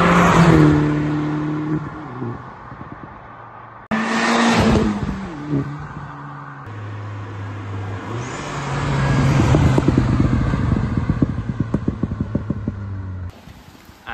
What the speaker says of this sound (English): This is what my car used to sound like before in its standard form